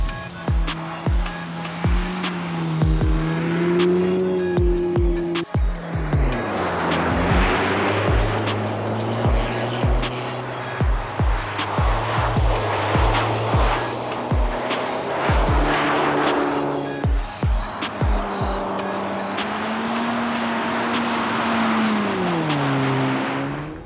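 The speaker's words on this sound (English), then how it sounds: "we could do endless drifts on our snow circles" A VW T-Roc R drifts on an ice circle, its engine revving loudly and rising and falling in pitch over a long continuous run, with rhythmic clicks and knocks throughout and no talking.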